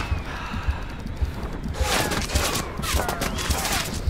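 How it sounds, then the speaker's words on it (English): Gunfire effects in the snowboarding game Steep during a Winterfest event, a rapid volley of crackling shots and bursts layered over steady game ambience and music. "I'm really liking those gunshot effects."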